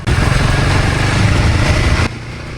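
A Himal 450 motorcycle ridden on a rainy road, a loud, steady engine drone close by that drops off abruptly near the end, with no talk.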